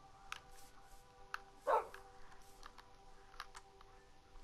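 A single dog bark from a dog in the Minecraft video game pops out once midway, short and moderately loud over a quiet background of faint game sounds and small clicks.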